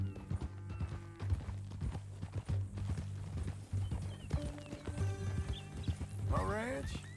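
Horse hooves clip-clop steadily under men's conversation, with a horse whinnying near the end, in the video game Red Dead Redemption.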